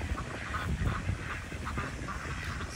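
Ducks quack in a noisy cluster, overlapping calls mixed with honking, fairly close and continuous over a dense background.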